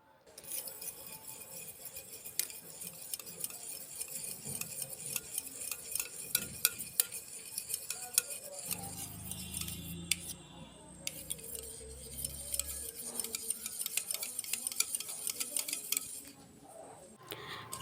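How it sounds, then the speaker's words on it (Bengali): Sour yogurt being whisked in a bowl, a quick repeated scraping and tapping of a utensil against the bowl that runs continuously with a brief lower rumble partway through, close and fairly quiet. "এবার আমি টক দইটা ফেটিয়ে নেব।"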